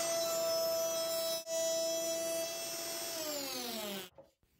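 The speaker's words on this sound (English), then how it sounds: "I route the grooves for them in several height passes on the router table" Steady high-pitched whine of a router cutting T-track grooves in passes on a router table for a crosscut sled, loud and continuous before the motor winds down and stops near the end.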